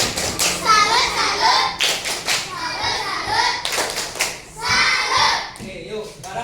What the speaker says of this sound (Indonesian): kasih tepuk salut untuk kelompok depan